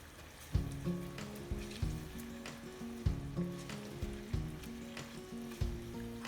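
Onions frying in a pan crackle and sizzle softly at a steady level, broken by repeated stirring knocks of a utensil on the pan in an irregular rhythm, with no voices.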